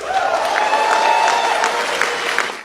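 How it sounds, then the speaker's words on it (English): Crowd applause fills the room at the Freedom Tower, a steady dense wash of clapping that holds at an even level for nearly three seconds before trailing off at the end. "there was applause and even standing ovations from the crowd here at the Freedom Tower"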